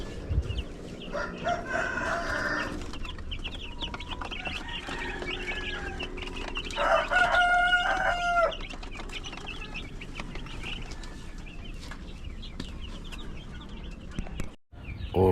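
Darag native chickens in a backyard farm cluck steadily throughout, with at least one rooster crowing loudly and nearby partway through over a busy background of other fowl.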